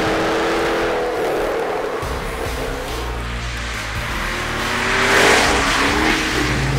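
The supercharged V8 of a 2013 Jaguar F-Type V8 S revs hard and loud, its deep roar swelling and climbing in pitch toward the end.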